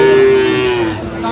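A Sahiwal cow or bull at a busy weekly cattle market in Dinajpur gives one loud, close, drawn-out moo that holds steady before tapering off.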